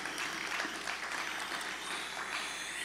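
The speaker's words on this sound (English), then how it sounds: "Let's give Bank of Montserrat a round of applause." Quiet, distant applause from the audience at the 2020 Montserrat Secondary School graduation ceremony, honouring the Bank of Montserrat. The clapping is soft and even for a few seconds.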